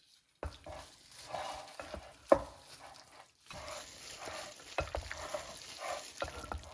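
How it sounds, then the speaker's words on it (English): Chicken being stirred by hand or spoon into a yogurt, lemon juice, salt, ground roasted spice, garam masala and chili marinade with crushed fried onions, giving close, wet squelching and scraping in irregular bursts with a brief pause midway. "Mix it so all marinade sticks on chicken."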